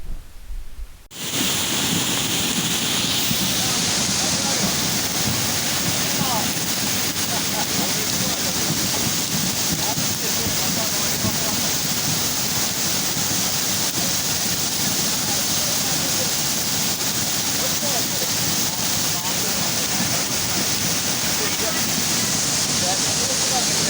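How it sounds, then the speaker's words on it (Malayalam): A flooded river after heavy rain roars continuously and loudly, a dense turbulent flow, with a gusty wind rumble underneath and no pauses. "കനത്ത മഴയിൽ ചോക്കാടൻ പുഴയിൽ മഴവെള്ളപ്പാച്ചിൽ"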